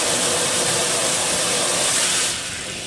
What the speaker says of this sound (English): And we're going to keep spraying water here.